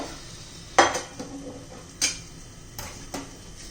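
A metal lid clinks and scrapes on a pan of paneer bhurji, a few sharp clanks spaced about a second apart with faint sizzling between them, close by and without talk.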